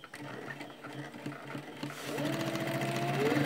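A sewing machine stitching a bag pocket, close and steady with a rhythmic whirring clatter that speeds up and grows louder partway through.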